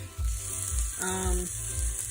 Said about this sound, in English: I'm also gonna add some crushed garlic.